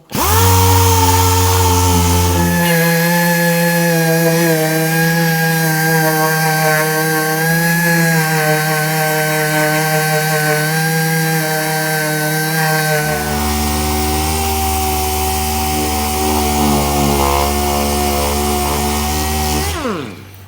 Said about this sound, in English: I've got a DA sander with a bit of 80 grit sandpaper on it